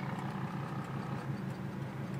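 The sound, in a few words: car engine idling at a traffic light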